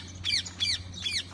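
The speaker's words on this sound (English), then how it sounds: "these birds are crazy" Birds at the Yaaman Adventures park giving three harsh, evenly spaced squawks, fairly close, over a low background hum.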